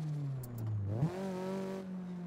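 A drift car in CarX Drift Racing on the Tsukuba Fruits Line, played on a Moza R12 wheel, drones at high revs, dips briefly, then climbs and holds a strained, steady engine note. It is close and alone, with a faint tire hiss.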